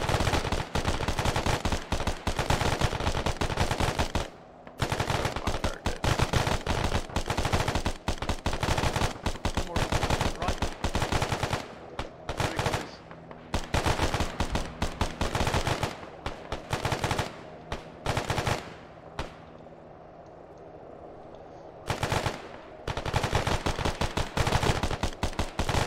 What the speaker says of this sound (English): Alright, guys, suppressive fire on BRDM.